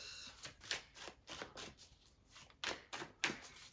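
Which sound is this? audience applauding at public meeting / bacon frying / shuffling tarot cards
shuffling tarot cards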